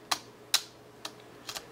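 A Horseman 980 camera's lens shutter fires in a few sharp mechanical clicks, some coming in quick pairs, seeming delayed, close by and quiet in a still room.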